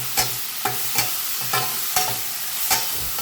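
Tomatoes and salted soya meat sautéing in a pan, with a soft continuous sizzle broken by regular scraping stirs of a spoon, close and steady with no voices.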